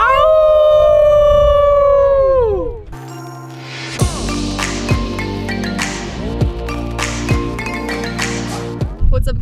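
Wolves at a wolf sanctuary an hour north of Los Angeles howl loudly and up close, long wavering tones that rise and slide down, first a single sustained howl, then several overlapping voices in a chorus.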